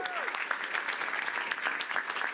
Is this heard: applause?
yes